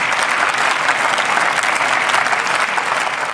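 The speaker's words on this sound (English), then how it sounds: "Please, let's clap for him better than that." Dense, loud applause from an audience at a university inaugural lecture, sustained evenly throughout with no break.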